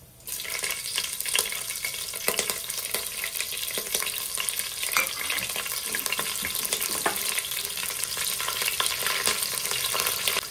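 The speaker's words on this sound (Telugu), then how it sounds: "జీలకర్ర చిటపటలాడుతున్నప్పుడే ఒక 3-4 పచ్చిమిర్చి ఇలా కట్ చేసుకొని వేసుకోవాలి" Sliced green chillies dropped into hot oil with spluttering cumin seeds for a fish curry, giving a loud continuous sizzle with crackles and the scrape of stirring throughout.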